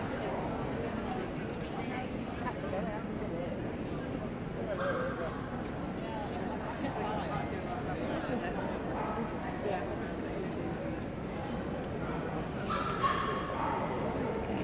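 Gundog puppies yipping and whimpering now and then, fairly faint, beneath steady background noise and occasional voices.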